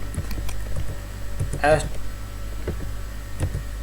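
Code goes in on a computer keyboard through scattered, soft individual key clicks with irregular gaps, plus one louder burst of clatter midway, over a faint background hum.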